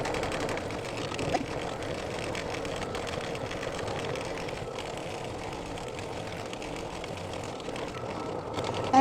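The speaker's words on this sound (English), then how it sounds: "All right, it finished stitching." Embroidery machine stitching a mug rug in the hoop, tacking down and quilting the background fabric: a steady, even mechanical whir and rapid needle chatter that runs continuously throughout without pause or talk.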